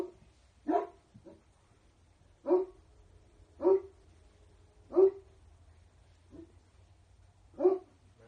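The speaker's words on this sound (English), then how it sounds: "you hear the dog barking." A dog barks in single spaced woofs, about seven over eight seconds, fairly close and clear inside a private home at night, with a low steady hum underneath and no talking.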